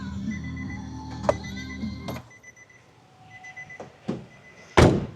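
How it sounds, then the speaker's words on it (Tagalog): Central door lock of a Mitsubishi L300 Versa Van actuating with a sharp mechanical thunk near the end, after a few lighter clicks and clunks over a faint hum. "Pero central door lock na yan"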